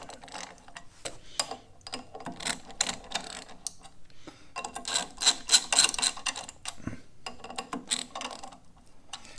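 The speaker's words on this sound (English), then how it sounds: "we're just going to thread each one down until it's touching the pressure plate here." Ratchet threading bolts down onto a dune buggy clutch pressure plate during engine install: quick, quiet clicking bursts of the pawl in repeated short runs, with brief pauses between strokes.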